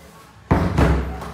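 A door in an apartment unit for sale swings shut with a single loud, close slam, followed by a brief rattling knock as it is locked, with no voices present.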